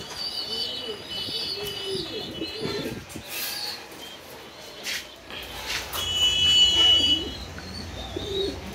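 Black Lahori pigeons cooing close by in a small fancy-pigeon farm, soft throaty coos repeating over other chirps and a brief flutter of wings.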